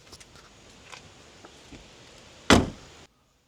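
A single loud car door slam close to the microphone, after quiet background shuffling, as a BMW E53 X5 4.8is is packed up to leave a tire shop.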